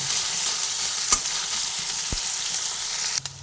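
Garlic frying in oil for a cauliflower mash, a continuous close hiss and sizzle with a few light knocks and scrapes from stirring.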